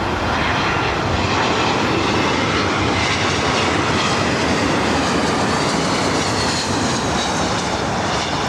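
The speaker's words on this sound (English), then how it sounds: "747s taking off on 24 left" A Boeing 747 takes off from runway 24 left at LAX with a loud, continuous, close jet-engine roar that stays steady throughout.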